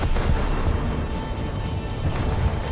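Naval cannon fire from the HMS Tiger C20 cruiser in a War Thunder naval battle, with repeated heavy booms over a constant rumbling background of battle noise.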